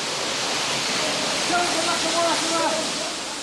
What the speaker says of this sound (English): Water being pumped at pressure from the ground floor is now flooding the 7th floor landing.